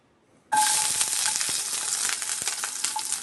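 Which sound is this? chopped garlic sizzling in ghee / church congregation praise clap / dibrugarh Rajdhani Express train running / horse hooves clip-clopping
chopped garlic sizzling in ghee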